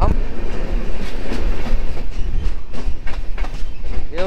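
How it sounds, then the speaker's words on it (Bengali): A freight train loaded with steel rods rolls past on the rails near a station in India, with loud rhythmic clickety-clack wheel beats, clanking wagons and a brief squeal, while people talk over it. "এ হচ্ছে মালগাড়ি"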